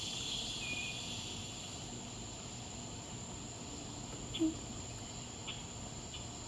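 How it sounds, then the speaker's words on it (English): A swamp cicada drones in a loud, steady, unbroken buzz that fills the whole stretch, with a faint brief chirp or two rising over it near the end. "that swamp cicada is actually pretty loud"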